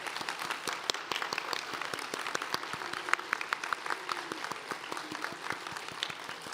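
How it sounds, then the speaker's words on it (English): Audience applause at a high school graduation ceremony, steady crowd clapping with sharp individual claps standing out, sustained throughout at a moderate distance with no talk on top. "We need to give you a round of applause."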